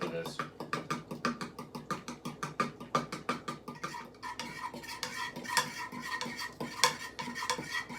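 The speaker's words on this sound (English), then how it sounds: "I'm whisking with a fork because my whisk is too big for this amount that we're using" A fork whisks a small batch of buttery sauce in a pan over low heat, giving rapid rhythmic metallic clicks and scrapes close up that slow and smear into a softer swirl toward the end.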